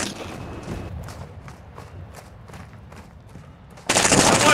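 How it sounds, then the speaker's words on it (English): Gunfire in Call of Duty: Modern Warfare DMZ mode, with a steady run of distant rapid shots followed by a sudden loud, dense burst of noise near the end. "You are taking effective fire."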